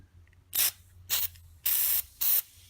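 Four short bursts of corrosion inhibitor spray hiss sharply into a fitting on a Quincy 325 air compressor, each lasting a fraction of a second, separated by brief quiet pauses.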